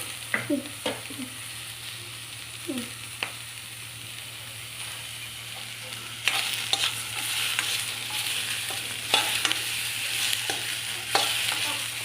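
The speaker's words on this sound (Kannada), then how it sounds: "ಟೊಮೊಟೊ ಒಂಚೂರು ಫ್ರೈ ಆಗಲಿ" Tomatoes fry with cinnamon and cloves for a snake gourd sambar, a steady close sizzle broken by intermittent spoon scrapes and stirring clatter against the pan, louder in the second half.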